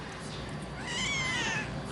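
A small, dehydrated, listless kitten gives a single drawn-out, wavering meow that rises and falls over a low background hum, close to the microphone.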